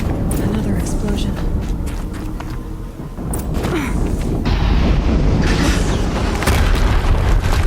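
An explosion in Horizon Zero Dawn booms within a dense, continuous wash of game noise, with a deep blast near the middle followed by lingering rumble, and voices mixed underneath.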